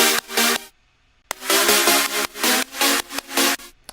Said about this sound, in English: Now let's listen with the white noise.